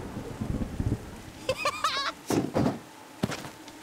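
A goat bleats in the farmhouse level of the horror game Devour, a few wavering cries in the middle of the clip with scattered thuds and footsteps around them, fairly close.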